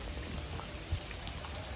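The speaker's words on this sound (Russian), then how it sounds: "Текут реки дождя, стекают в эти каналы." Heavy rain pours steadily over a mausoleum in Hue, Vietnam, a dense, even hiss of drops on tiles and water running into channels, with no voices.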